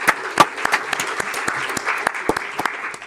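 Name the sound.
audience applause for the graphics team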